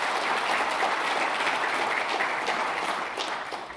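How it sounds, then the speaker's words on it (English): Steady applause from a conference audience for the reviewers at a QEMU keynote, a dense, even patter of many hands at moderate distance that fades slightly toward the end. "let's have another round of applause for our reviewers"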